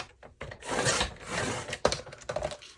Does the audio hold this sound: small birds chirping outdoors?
no